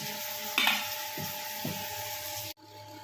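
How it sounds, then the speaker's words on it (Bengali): Onions frying in a pan at home, a steady close sizzle with a few soft stirring scrapes, cutting off abruptly near the end. "এখানে পেঁয়াজটা ভাজা হচ্ছে"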